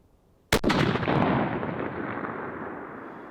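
A Howa 1500 rifle fires a single loud shot at a 600-yard target, a sharp crack followed by a long rolling echo that slowly fades away outdoors.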